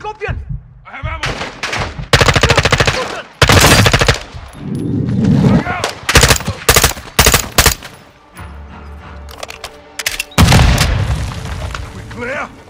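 Call of Duty gunfire: repeated loud bursts of automatic weapons and heavy booms in a combat scene, with shouted voices between volleys.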